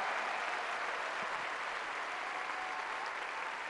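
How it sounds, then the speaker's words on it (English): Sustained applause from an audience cheering Warrior Games athletes and their families, a steady dense clatter of many hands clapping at moderate distance throughout, with no talk over it. "Give them a nice round of applause as well"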